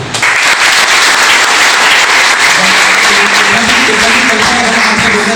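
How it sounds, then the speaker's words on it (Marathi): Audience applause at a function, a dense, loud burst of clapping from many hands that runs steadily throughout. "आपण आज पहिल्यांदा साधारणतः टाळ्या वाजवूया."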